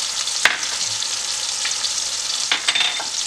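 Blended garlic and onion frying in a pan with crab meat and shrimp, a steady close sizzle with occasional sharper crackles and stirring, no talk.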